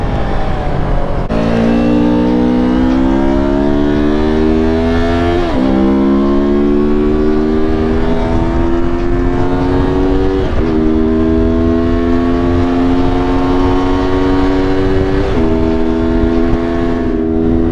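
A motorcycle on a test run accelerates hard, its engine whine rising through several gears with short drops at each shift. It sounds loud and steady, as if recorded on board.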